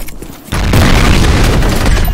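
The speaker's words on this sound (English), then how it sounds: "Fire in the hole! Grenade out!" A grenade goes off in the shooter game F.E.A.R. as a sudden loud boom that rolls into a sustained roar and rumble of blast noise.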